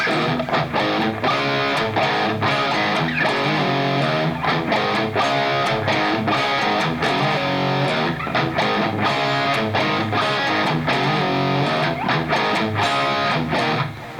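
A dense, continuous distorted electric guitar riff plays with rhythmic chugging accents, loud and steady throughout.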